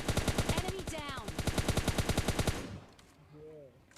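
Rapid machine gun fire in PUBG Mobile Lite hammers out a dense, loud burst of evenly spaced shots for over two seconds, then cuts off into quieter game sounds.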